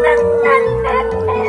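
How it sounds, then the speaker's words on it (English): A husky-mix rescue dog howls in a long, sustained, wavering tone, loud and close, with no talking over it. "He has the husky howling that he does."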